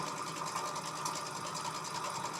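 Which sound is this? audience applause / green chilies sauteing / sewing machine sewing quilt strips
sewing machine sewing quilt strips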